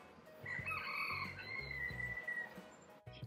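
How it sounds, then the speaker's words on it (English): A rooster crows nearby in one drawn-out call, over a low, rumbling background, in Puerto Vallarta, Mexico. "Yes, you just heard a rooster,"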